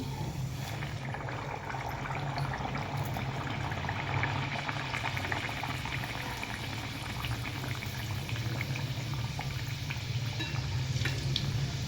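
Solapur-style sanjori puri, a wheat-semolina stuffed flatbread, frying in hot oil: a continuous, even bubbling and sizzling, close and steady for the whole stretch, with no voices.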